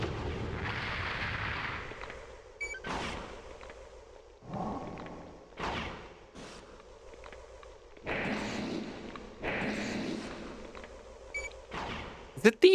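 An ant enemy fires through a barrier in Armored Core, sending repeated heavy blasts and bursts of gunfire in uneven clusters, with a voice talking between the shots and a sharp crack at the very end.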